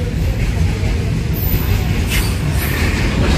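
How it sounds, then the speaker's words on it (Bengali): A long train rolling past nearby, a loud steady low rumble with rattling wheel noise and faint high squeals, continuing without pause. "কত বড় ট্রেন গো, যাচ্ছে তো যাচ্ছে"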